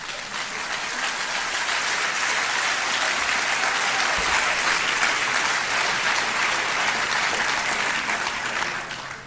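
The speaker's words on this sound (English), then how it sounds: "that got a bigger cheer than the Tocqueville shtick" A large audience applauds a joke at a political talk, steady dense clapping swelling and holding for about nine seconds before tapering slightly at the end, with no voices heard over it.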